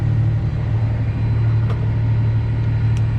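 A truck pulls in at a farm where a combine is being worked on, its engine rumbling loud and near in a steady low drone with no talking.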